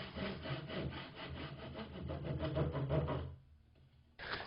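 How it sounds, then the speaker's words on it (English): Handsaw cutting through wooden tenons to form haunches on a classic workbench frame, a steady rhythmic rasping of back-and-forth strokes, close and fairly loud, stopping briefly near the end before one more stroke begins. "The tenons need to be reduced in width slightly to produce the haunches, but this is a simple job with a handsaw"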